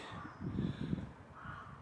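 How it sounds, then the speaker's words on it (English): Birds calling at sunset in Somerset, a couple of harsh crow-like caws, faint and distant against an outdoor background. "over there on the other side, with the birds singing"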